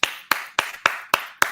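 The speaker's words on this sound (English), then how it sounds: "I definitely have to clap on that" One person claps six times in a steady, evenly spaced rhythm, close and crisp, with short gaps of silence between the claps.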